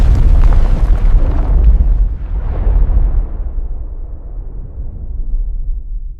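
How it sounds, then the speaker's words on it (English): A massive volcanic eruption explosion hurling debris produces a loud, deep boom that rolls and rumbles, then slowly fades over several seconds into a low, dying roar. "This eruption spewed 14 cubic miles of debris, one of Earth's largest explosions."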